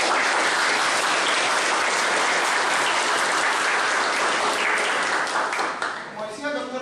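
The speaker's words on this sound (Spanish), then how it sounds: "Un fuerte aplauso, por favor." A lecture-hall audience at a constitutional history conference in Peru bursts into loud, sustained applause that fills the room alone, then thins out near the end.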